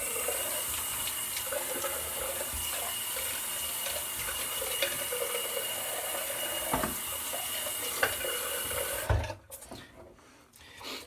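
A razor is rinsed under a running tap during a shave, steady water flowing into a sink with small knocks and rubbing; the flow cuts off near the end, leaving quieter handling noises, with no speech.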